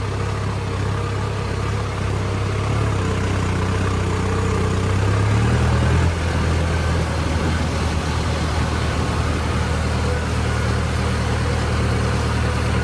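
Heavy tractor engines drone and idle continuously close by while hauling soil to build an embankment, one shifting pitch briefly midway, a steady low mechanical roar with no talking.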